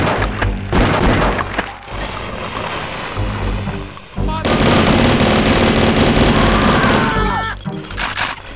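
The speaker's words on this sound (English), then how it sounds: "Just fire the shotgun in their general direction" Shotgun fire in the game Blood: repeated loud, booming blasts with crashing impacts, forming a dense, continuous barrage with brief lulls between volleys.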